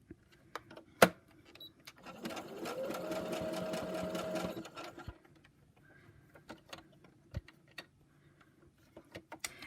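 A sewing machine with a needle-down feature stitches fabric in one short, even run of a few seconds, framed by scattered quiet clicks and handling taps.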